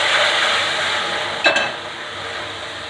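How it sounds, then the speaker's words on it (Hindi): Sugar syrup poured into golden-brown roasted besan for halwa, giving a steady loud sizzle with a brief sharp clink of a spoon or pan midway as stirring continues. "अब इसमें हम चीनी के घोल को डाल देंगे"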